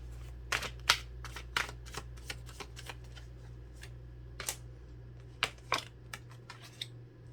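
Tarot cards are shuffled and drawn, giving a quiet series of crisp, irregular snaps and flicks over a low, steady background hum, with no talking.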